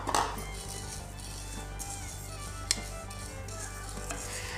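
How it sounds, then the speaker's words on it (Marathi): Urad dal being dry-roasted in a pan and stirred, faint rustling scrapes and light clinks over a steady low hum, with one sharper metallic tap partway through. "आता आपण उडदाची डाळ भाजतोय"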